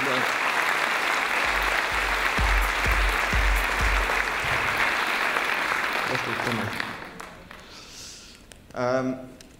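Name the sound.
audience applause at award ceremony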